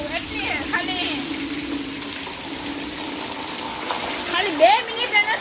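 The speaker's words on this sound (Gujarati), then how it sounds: "હજી વરસાદ આવવા માંડ્યો" Rain falls steadily over a village, a continuous soft hiss of water with a few brief splashy bursts, while people talk nearby.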